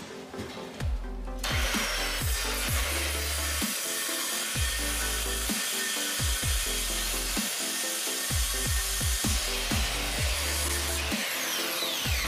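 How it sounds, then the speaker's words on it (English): Reciprocating saw cutting close to a wooden bottom plate during rotted subfloor repair at an exterior door, running in repeated short bursts with brief pauses between strokes, near and loud. "I want to get the sawzall blade as close to the bottom plate as possible."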